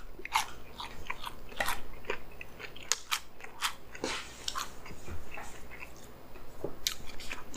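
Someone chews chicken nuggets close to the microphone, with repeated crisp crunchy bites and wet mastication in a steady irregular rhythm.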